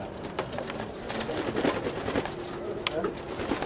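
Pigeons in a loft in Cairo give soft repeated coos amid rustling and flutter, with people talking nearby.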